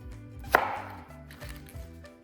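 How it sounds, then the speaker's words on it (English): Half an onion chopped for beef sinigang, a single sharp knife strike on a board, close and clear over faint background music. "and then we'll just chop them up."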